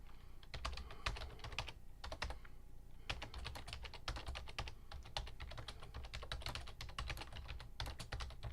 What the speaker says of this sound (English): I have to type something